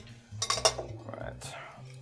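A spoon stirs a Vesper cocktail in a glass, giving a few quick metallic clinks and swirling scrapes close up, with a soft voice murmuring underneath.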